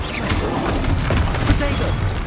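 Confringo explosive spells hit in Hogwarts Legacy, a dense stretch of crashing booms and thuds with debris-like clatter, loud and continuous.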